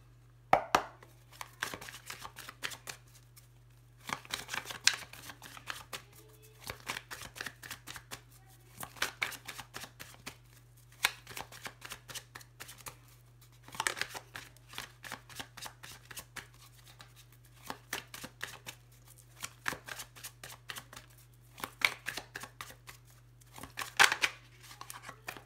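Tarot cards shuffled by hand in repeated riffling bursts, papery flutters and taps close up against a steady low hum, with short pauses between rounds and no talking.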